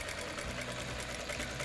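A sewing machine steadily stitches two fabric pieces of a sarafan dress together, a faint continuous whirring hum over its short span.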